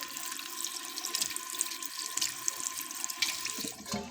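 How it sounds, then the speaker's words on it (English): Tap water runs steadily over TENS/EMS self-adhesive electrodes to rinse them, a close, continuous splashing trickle with no one speaking. "we need to rinse them with some water"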